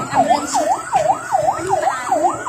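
An ambulance siren at a road accident scene where a van ran over a man, wailing in a steady, repeating rise-and-fall cycle about every third of a second, loud and continuous.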